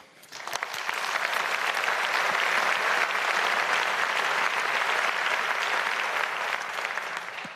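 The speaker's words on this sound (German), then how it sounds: "Applaus" Sustained audience applause at the FDP Epiphany political rally, a dense, even wash of many hands clapping that swells in quickly and holds steady for several seconds before starting to ease.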